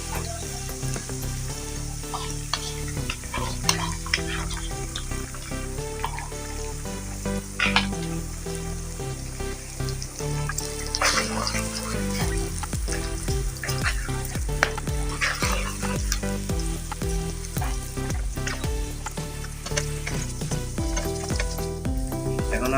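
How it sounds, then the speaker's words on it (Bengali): Egg fries and is stirred with noodles in a hot pan, producing a loud, dense sizzle throughout with frequent clattering spatula scrapes and knocks against the pan. "এখন আমরা সাথে ডিম দিয়ে দিতেছি।"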